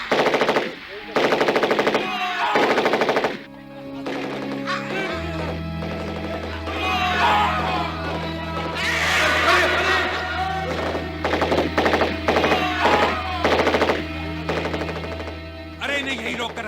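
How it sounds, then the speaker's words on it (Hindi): Machine gun fire in a war drama set at a bunker, loud rapid bursts rattling close by over a low rumble, with shouted voices between volleys. "फायरिंग शुरू करो।"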